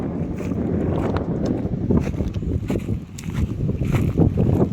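Steady wind buffets the microphone on an open seashore near Dayal village, a continuous low roar with gusty swells and water movement beneath, no voices.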